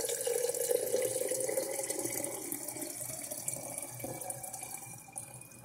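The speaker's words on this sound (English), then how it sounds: "I'm just going to go ahead and add some water in there anyway." Water running from a tap into a fermenting jar for a carrot ferment, a steady close splashing pour with a rising fill tone throughout, no voices.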